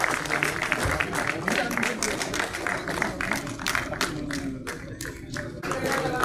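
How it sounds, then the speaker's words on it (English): An audience at a workplace National Safety Day prize ceremony claps in a dense, uneven patter with individual claps standing out, steady throughout at moderate volume. "So please give a big round of applause."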